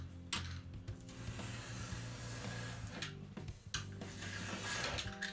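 A cutting knife slices excess foam board for an RC plane V-tail, giving quiet, close scraping and rasping strokes in uneven bursts with brief pauses between cuts.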